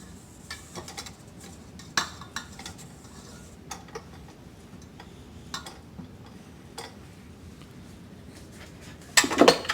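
A spatula scrapes the side of a mixing bowl of French macaron batter in scattered soft ticks and knocks, with a louder clattering scrape of utensil against bowl at the end, close and without speech.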